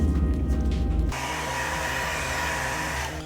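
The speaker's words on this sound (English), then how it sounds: "let's hit this with a hair dryer" A low motor hum gives way to a steady, whining electric blower running continuously at close range, like a hair dryer aimed at a surface.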